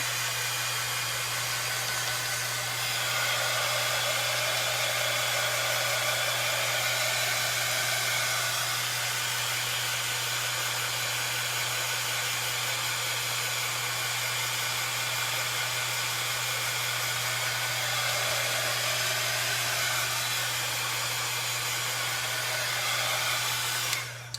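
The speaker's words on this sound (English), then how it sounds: "I'm going to go ahead and I'm going to zap it with my heat tool again" Handheld heat tool blowing hot air over a spring subway-style craft sign, a loud continuous airy whoosh with a steady low hum running unbroken for the whole stretch.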